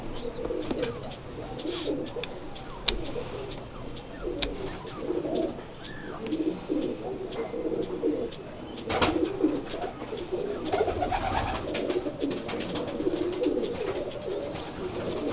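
Sialkoti pigeons coo in soft, repeated rolling calls from a rooftop loft, with occasional sharp clicks and handling noises and a little faint chirping mixed in.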